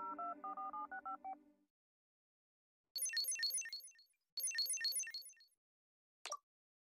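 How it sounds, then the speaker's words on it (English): Telephone dialing tones from South Park: Phone Destroyer: a run of steady low keypad beeps, then two quick bursts of bright chirping tones and a final short blip, crisp and close against silence. "I'm going to call him."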